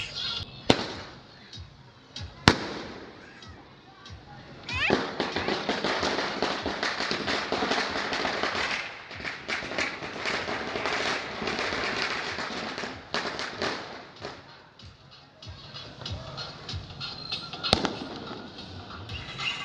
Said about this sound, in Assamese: দেৱালী একদম য'তে ত'তে ধাম ধুম আৰু গান চান বাজি আছে